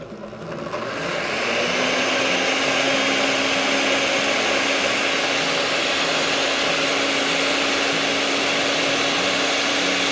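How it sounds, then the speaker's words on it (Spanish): A blender blending chilies starts up and quickly ramps to a loud, steady whir, running continuously close by with a gritty churning texture and no voices. "primero se inicia con pulsaciones y después se va subiendo de nivel la licuadora"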